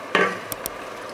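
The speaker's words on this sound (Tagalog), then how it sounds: "yung aking adobo is kumukulo na" A spoon scrapes once through adobo simmering in a pot, followed by two light metallic clinks, all brief and close over a faint steady bubbling hiss.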